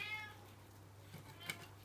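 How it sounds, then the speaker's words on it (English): A pet cat named Henry meows faintly in the background of a home kitchen, a couple of soft calls over a steady low hum. "The cat's meowing in the background"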